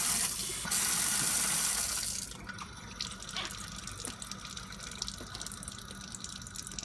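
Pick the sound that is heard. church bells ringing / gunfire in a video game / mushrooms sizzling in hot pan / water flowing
water flowing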